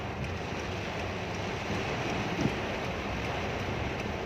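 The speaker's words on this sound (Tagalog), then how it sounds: "Sobrang lakas ng ulan, hindi mo nakikita yung ano." Heavy rain and strong wind buffeting a vehicle while driving in traffic near trucks, a constant dense hiss of rain and wind noise with no voices.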